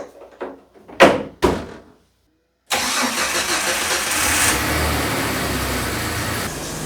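A Jeep Wrangler TJ starting in the cold: a few sharp clunks like a door, a brief pause, then the engine cranks and catches into a loud, steady idle that continues close by.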